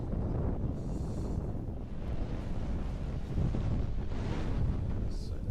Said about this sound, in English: It's rainy or windy in Dublin.